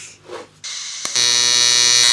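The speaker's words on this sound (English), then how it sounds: "that's welding up this bracket" An AC TIG welder running at roughly 170 to 200 amps on an aluminum bracket, a loud, steady electric buzz with a high whine that starts after a short quiet lead-in and holds to the end.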